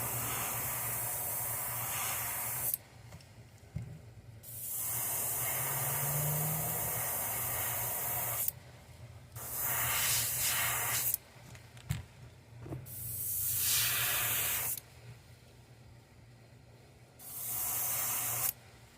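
An airbrush sprays paint onto a custom S crank in several separate hissing bursts of a few seconds each, split by short silent pauses.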